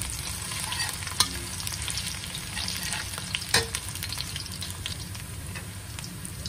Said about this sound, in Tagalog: nagigisa po tayo ng bawang at luya